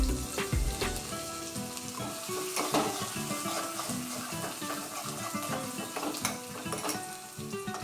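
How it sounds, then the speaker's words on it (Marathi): Tempering of cumin and mustard seeds sizzling in hot oil for a quick raw-mango pickle, a steady loud crackling sizzle with scattered pops and light utensil clinks throughout, no voices. "तेल तापले, जिरी मोहरी घातली,"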